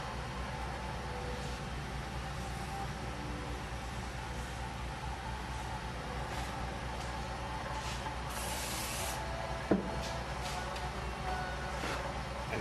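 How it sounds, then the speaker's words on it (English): CA glue activator hisses from a spray can onto a segmented wooden pen holder in a woodturning shop, a faint, soft spray over steady background hum, with one brief, brighter burst partway through and no talking. "I'm spraying an activator, which instantly hardens that CA so I can move on to the next one."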